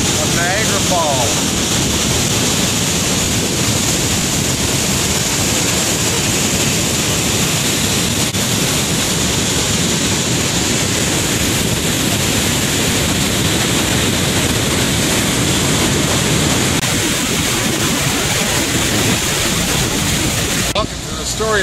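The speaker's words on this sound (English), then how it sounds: "Here we are at the precipice of Niagara Falls." Niagara Falls roars as a constant, dense rush of water at the precipice, steady and loud throughout with a broad hiss that may carry some wind noise.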